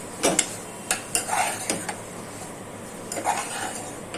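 A spoon clanks and scrapes against a pot while stirring a brinjal and dried-shrimp curry, with a handful of sharp metallic knocks spread over a few seconds and no voices.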